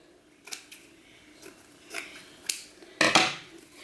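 Scissors snip through deco mesh for a ruffle fall wreath, giving several short, crisp cuts spaced across the moment, the last one louder and longer, close up with no talking.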